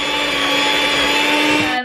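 An electric mixer whisks cake batter for jubilee muffins, giving a steady, loud motor whine with a constant pitch that runs for about two seconds and then cuts off.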